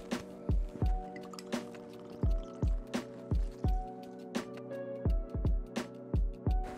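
Bourbon glugs from a bottle into a cocktail shaker for a Kentucky Buck, a close, quick run of about twenty wet gulping splashes with falling pitch and no talk.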